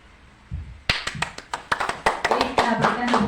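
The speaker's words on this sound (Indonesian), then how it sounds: "Kita berikan tepuk tangan untuk tanggapan dari Pak Muhajir." Classroom audience applauding for a teacher's response, with a burst of hand claps rising to steady mixed clapping, close and fairly loud.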